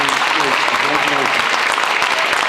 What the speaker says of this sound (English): one more round of applause for Ethan Lawson